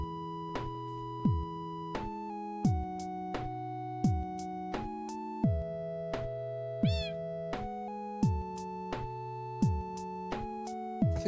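Repeated short electronic meows from a cat in the Minecraft-style roguelite dungeon crawler Tinycraft, sounding as tonal chirps in a regular rhythm roughly every second, clear and close with no talking.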